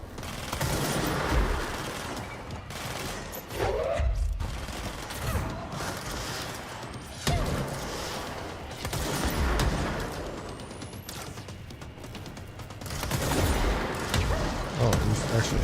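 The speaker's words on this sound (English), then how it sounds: "Oh, he's actually shooting rockets." Rockets and gunfire from the video game Control, with rapid bursts of shots and explosive rocket blasts repeating over a steady mechanical rumble, loud and close.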